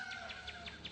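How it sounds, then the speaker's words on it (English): Small birds chirp in a quick repeated series of high tweets outdoors at sunrise in May, faint and distant over a soft background hum. "at least the birds are happy"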